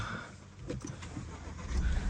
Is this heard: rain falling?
no